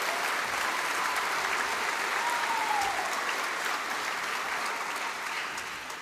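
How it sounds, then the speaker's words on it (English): A big round of applause fills a polytechnic graduation ceremony hall, a dense, even wash of clapping from a large crowd that holds steady for several seconds before easing slightly at the end. "I reckon Joanna needs a big round of applause as well."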